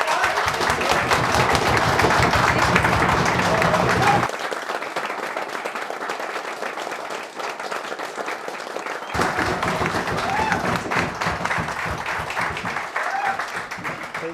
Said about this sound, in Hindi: एक सुजीत सर के लिए तालियां।